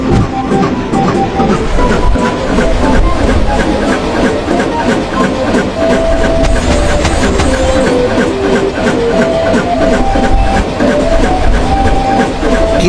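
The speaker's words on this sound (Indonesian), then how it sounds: "Kereta akan berbelok." A train rolls steadily in a children's panda cub adventure video game, a loud continuous rumble and rattle of wheels on track with faint tonal game sounds layered over it.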